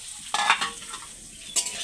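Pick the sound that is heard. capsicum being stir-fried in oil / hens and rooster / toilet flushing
capsicum being stir-fried in oil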